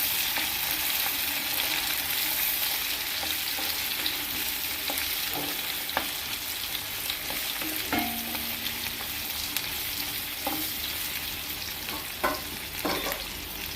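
Onions and green chilies fry in a modest amount of oil with a bay leaf, steadily sizzling close up while occasional stirring clinks and scrapes cut through.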